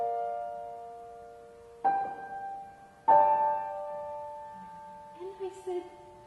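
Three notes sound together as a chord, likely on a piano during a Schubert rehearsal, struck twice and left to ring and decay, with a faint voice near the end.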